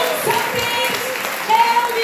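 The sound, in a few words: congregation applauding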